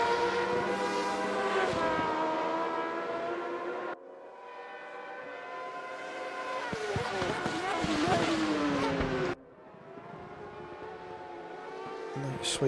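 Race car engine in a racing sim, the Repsol-livery car in an FR X-90 Cup round at Silverstone, a loud sustained whining drone with rising and falling pitch and abrupt shifts between gears or camera cuts.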